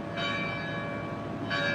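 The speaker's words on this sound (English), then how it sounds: "Y'all hear the bells?" Bells ring outdoors to mark the hour, their sustained tones sounding moderately loud in two clear strikes about a second and a half apart, with no talking over them.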